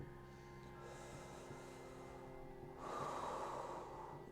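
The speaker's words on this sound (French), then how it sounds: "observez la différence entre cette respiration nasale et la respiration buccale" Close, quiet breathing: soft, steady nasal inhales and exhales with small snorting catches, then a louder, breathier airflow through the mouth during a Kundalini breathing exercise.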